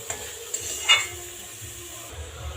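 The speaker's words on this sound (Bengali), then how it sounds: "আমি সাদা তেল দিয়ে ভাজছি।" Food frying in white oil in a pan, a steady close sizzle punctuated by a few light utensil clicks and one brief louder stir.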